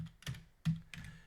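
Typing on a computer keyboard, a few close, quiet key clicks in uneven bursts with short pauses between them.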